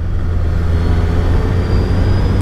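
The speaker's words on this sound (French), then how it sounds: "Oh, le son du moteur." A 2024 Suzuki Hayabusa sport motorcycle engine with aftermarket Yoshimura exhaust gives a steady, throaty rumble at a constant pitch throughout, close and loud, with no gaps or other sounds.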